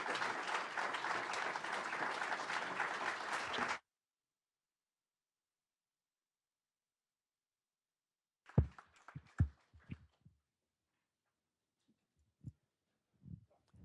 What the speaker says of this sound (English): Can we have one more round of applause, please?